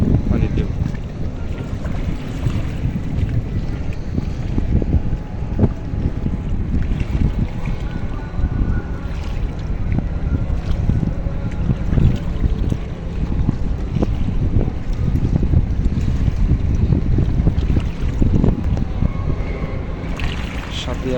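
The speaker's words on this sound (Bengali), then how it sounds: "নদীর এত সুন্দর শীতল বাতাস," Cool wind gusting over the wide Meghna river near the Meghna bridge, a steady loud roar of wind buffeting the microphone over lapping waves and a boat's rumble, continuous throughout.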